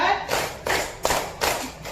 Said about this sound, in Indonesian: Kita tepuk fokus dulu. Oke, tepuk 1, tepuk 2, tepuk 3, tepuk 4,